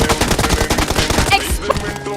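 Rapid bursts of gunfire from an M416 and pistol in the mobile battle royale game BGMI, a fast loud rattling series of shots before a brief tail of quieter game sounds.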